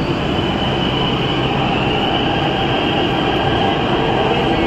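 A metro train pulls out of the station with a loud, steady rumble and rail noise that holds throughout, with no voices over it.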